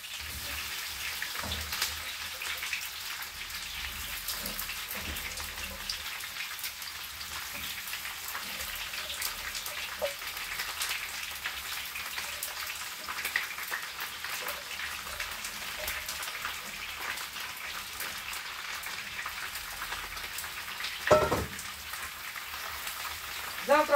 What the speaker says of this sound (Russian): Вот это, девочки, самая вкусная еда, да? Жареная картошка.